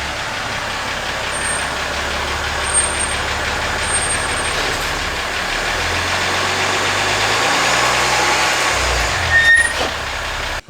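A 2015 Jeep Grand Cherokee engine runs at a steady idle during a home service, a continuous low hum with a faint rise and change in tone midway, moderately loud and alone without talk.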